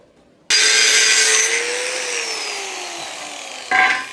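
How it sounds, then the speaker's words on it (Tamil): A loud power saw bites into steel square tubing with a steady, grinding whine that slowly drops in pitch, then a brief harsh burst near the end. "இதில் ஒரு 2 அடி நீளத்துக்கு ஒரு 2 பீஸ் வந்து கட் பண்ணி எடுத்துக்கலாம்."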